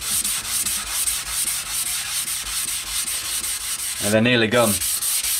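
A motorcycle petrol tank being hand sanded with 600 grit sandpaper, a loud, continuous rasping rub in steady back-and-forth strokes close up, briefly under someone speaking near the end.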